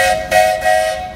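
A 75 horsepower Case steam traction engine at a threshermen's reunion parade sounds its whistle in short loud steady blasts, three quick toots that sing out plainly with little else around.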